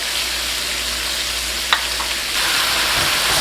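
Shrimp fry in a hot wok for coconut fried rice, a loud, steady sizzle lasting the whole time, with one brief tap partway through and the sizzle swelling slightly near the end.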